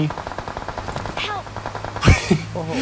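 Automatic gunfire in the PUBG Mobile battle royale game, rapid bursts crackling through a busy mix of game sounds, with a louder close shot near the end and faint voices in the background.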